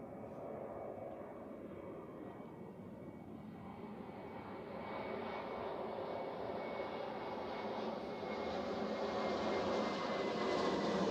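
A Swiss Airbus A321neo jet airliner landing at Zurich Airport, its engine roar building steadily from a distance into a loud, continuous rushing drone with no talking.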